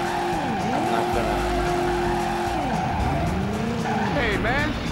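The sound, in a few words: car skidding and crashing in a driving video game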